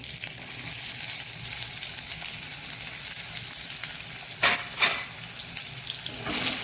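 Chopped onions hit hot oil already seasoned with cumin for a methi matar malai gravy, giving a steady, moderately quiet sizzle with a couple of short stirring scrapes midway.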